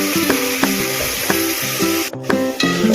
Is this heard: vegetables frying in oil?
yes